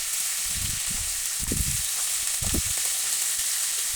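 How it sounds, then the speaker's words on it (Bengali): Tilapia fish heads fry in hot oil, a steady sizzling hiss with several short bursts of turning and stirring noise near the pan. "এই মাথাগুলো কিন্তু আমি খুবই সুন্দরভাবে উল্টে পাল্টে ভেজে নিচ্ছি"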